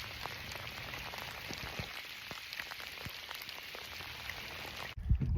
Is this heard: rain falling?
yes